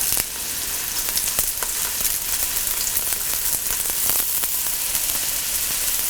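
Ginger, green chilli, garlic and curry leaves fried with salt in a pan for Kerala-style chicken roast, with steady close crackling sizzle and light stirring scrapes, no talk.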